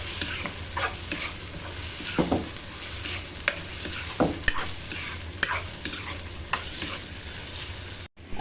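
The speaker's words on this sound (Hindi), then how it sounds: "इसको जो है अच्छे से इसी अदरक लहसुन के पेस्ट में भूनेंगे" Chicken cubes sizzle steadily while frying in butter with ginger-garlic paste, broken by repeated spoon stirs and scrapes against the pan, with no talk.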